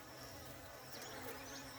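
Bees buzz around a feeding container floated in water, a faint, continuous close hum of several insects with no pauses.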